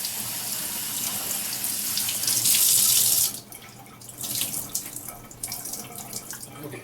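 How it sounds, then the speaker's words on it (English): Tap water runs steadily over vegetables held in a sieve at a kitchen sink, a loud continuous splashing gush that drops to a lighter, uneven trickle partway through, with no talking. "Try not to let the water go inside the vegetable sieve there."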